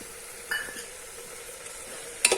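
Papaya halwa with sugar is stirred in a pan, a faint sizzle under two short spoon scrapes and clinks against the pan.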